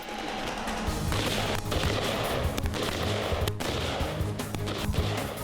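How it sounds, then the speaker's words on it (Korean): Continuous, dense rifle fire from an army infantry company's close-quarters moving fire drill at an outdoor range, with many rapid overlapping shots forming a loud, steady barrage across the whole stretch. "준비된 사수 이동반 사격, 신속 재정전 사격, 사격 개시"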